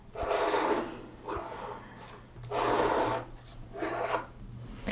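Melted chocolate is spread across a wafer-paper stencil with an offset spatula, giving close, soft rasping scrapes in a few long strokes with short pauses between them.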